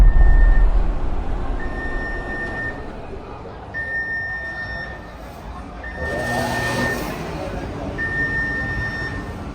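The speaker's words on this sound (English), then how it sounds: "With the alarm going off around the ship, I thought a fire was about to break out on board." A test alarm sounds aboard a cruise ship, long steady tones repeating at regular intervals over a constant low background rumble and ambient noise.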